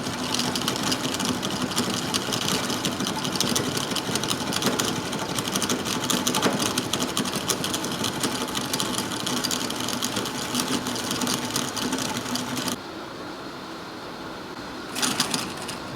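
A lathe takes a cut on a wagon wheel hub, a continuous close mechanical hum and whir that stops partway through, leaving quieter room sound and a brief clunk.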